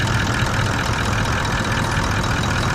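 Car engine idling as it warms up, fitted with a dual battery setup, producing a steady, close, continuous rumble with an even broadband hiss and no talk.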